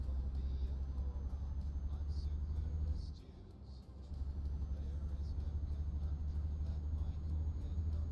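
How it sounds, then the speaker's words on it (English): Steady low road rumble from cars and other vehicles crawling in a traffic jam, heard from close by, with a brief dip in the middle and no talking. "Big traffic jam that I'm not the cause of,"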